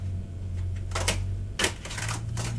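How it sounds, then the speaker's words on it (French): Tarot cards being shuffled by hand, papery riffling bursts in two or three short flurries over a steady low hum, close and moderately loud. "Je mélange parce que, comme vous savez, parfois on doit mélanger un peu plus"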